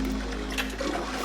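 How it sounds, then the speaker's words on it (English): A toilet flush in a video game, a short rushing swirl of water over a steady low hum, moderately loud and with no voices. "the sun toilet needs to be flushed 4 times."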